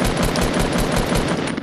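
Sustained rapid gunfire in a video game, a loud, dense burst of rattling shots that runs without a break for under two seconds.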